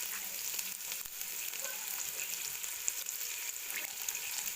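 Three chopped onions frying in hot oil for Kenyan pilau, a continuous soft crackling sizzle with small pops throughout, fairly quiet and with no talking.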